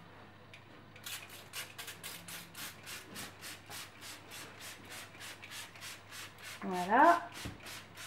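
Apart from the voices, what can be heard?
scrubbing a sink with homemade natural cleaner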